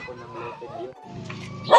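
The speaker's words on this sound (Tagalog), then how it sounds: "Tapang ng aso." A dog barking in quick, sharp yaps close by, mixed with people's voices in a short, busy burst.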